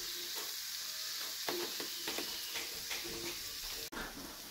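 Cauliflower and potato fry in a pan with a quiet, even sizzle, broken by a few light clicks and scrapes of stirring.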